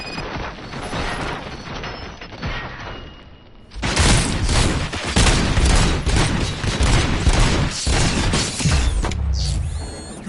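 Gunfire in the film Robocop, a quieter mechanical stretch giving way to a loud, dense barrage of rapid automatic shots with heavy clatter and booms that runs for several seconds.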